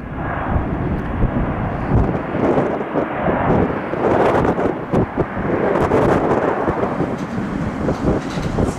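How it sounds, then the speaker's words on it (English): A single-aisle jet airliner at Tampa International Airport roars loudly and close, a rough, turbulent rumble that surges and buffets continuously. "World's longest single aisle jet."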